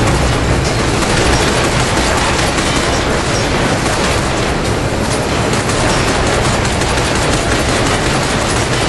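Dense, continuous gunfire fills a Binary Domain battle with a steady roar of automatic weapons and explosions, loud and sustained throughout with no clear pauses.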